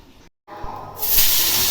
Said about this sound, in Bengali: অ্যাকুরিয়ামটা ধুইতেছে, অ্যাকুরিয়ামটা অনেক ময়লা হয়েছে